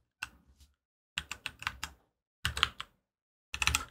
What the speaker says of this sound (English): Now, if I type anything, like I want to type football,